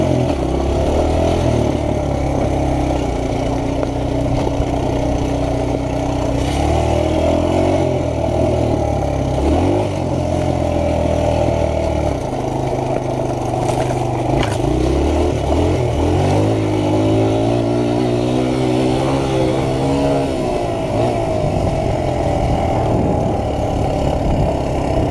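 A four-stroke motorcycle engine runs loud and close throughout, rising and falling through revs with shifting tones and occasional sharp pops.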